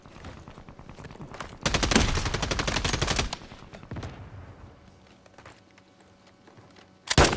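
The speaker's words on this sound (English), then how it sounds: "now the top one is shooting at me." Enemy gunfire in the Warzone battle royale game, rapid automatic bursts that come loud and close, then fade to a sparser, more distant exchange of shots before one more sharp burst at the very end.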